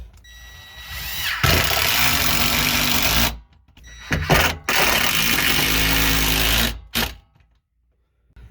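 A power drill driving construction screws to fix an attic fan to its frame, two long loud whirring runs of a few seconds each, separated by short bursts and ending in silence.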